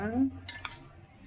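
About 300 grams of mutton pieces go into hot oil in a pan for a tomato mutton curry. After a brief spoken remark comes a short clattering splash of meat and metal against the pan.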